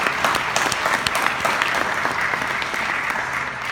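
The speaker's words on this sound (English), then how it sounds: "I want us all to just applaud you for being" Crowd applause at a faculty union meeting, a thick, continuous clapping from many people in a room, fairly loud and steady from start to finish.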